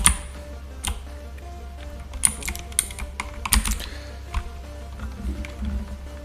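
Clicks of a computer keyboard come in short irregular bursts during a live coding session, fairly close and moderately quiet, with scattered sharper key strikes.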